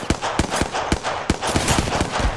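Enemy gunfire in the video game Apex Legends: a rapid series of sharp, loud shots in uneven bursts, roughly a dozen cracks over a couple of seconds, over a noisy, busy background.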